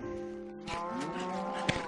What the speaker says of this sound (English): Now this is just my little makeshift animal farm. Got a bunch of different stuff here, mostly cows that I kill.